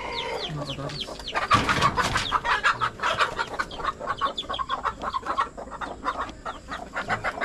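Farmyard chickens cluck in a busy, close chorus, with faint peeping of a chick and a brief crow-like call mixed in, some low voices in the background.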